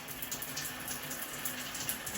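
A shower runs with a steady hiss and splash that stays even and fairly quiet, with no voices.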